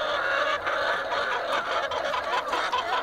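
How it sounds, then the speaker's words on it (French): A dense flock of laying hens on a poultry farm in the Congo clucks and squawks continuously, a busy overlapping din of many birds filling the space. "Vous avez maintenant beaucoup de poulets."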